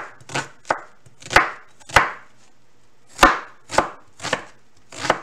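Onion being chopped with a knife on a board while prepping a pork, pepper and broccoli rice dish: eight or so sharp, close knocks in an uneven rhythm with short pauses, no talking.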